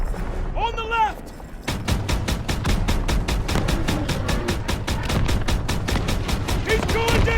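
Rapid automatic gunfire in the Call of Duty: World War 2 campaign, a loud even stream of shots with explosions underneath, while a shouted voice briefly rises over it.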